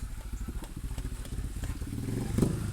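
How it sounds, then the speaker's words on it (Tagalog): A motorcycle engine chugs steadily nearby on a flooded road, its pulsing rumble growing slightly louder as it passes, with some clattering. "padaanin lang natin tong motor"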